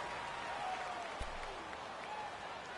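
Stadium crowd roar from a Madden NFL video game, home fans in an American football stadium drowning out the snap count, a steady broad wash of cheering throughout with a faint thump midway.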